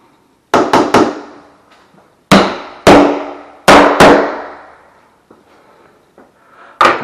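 A door being hung is tapped into place with sharp, close knocks: a quick pair, then several single and doubled hits spaced apart with short ringing decay, and quiet pauses between.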